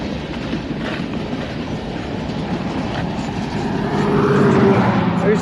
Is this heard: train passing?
yes